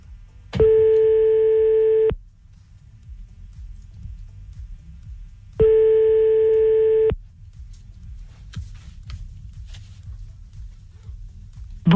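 Telephone busy signal after a hung-up call: two loud, steady electronic tones, each lasting about a second and a half and spaced several seconds apart, over a faint background hum.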